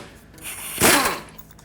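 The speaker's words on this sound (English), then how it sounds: "we're going to move on to removing the 21mm mounting nut that holds the outer tie rod stud" A socket wrench works loose the 21mm nut holding the outer tie rod stud to the steering knuckle of a 2009-2014 Ford F-150, giving one loud, close, abrupt crack-and-rasp burst that fades quickly.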